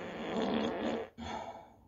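A cartoonish fart sound effect played from an Alexa smart speaker: one drawn-out raspy, buzzing blast, a brief break, then a shorter sputtering tail, moderately quiet and with no speech.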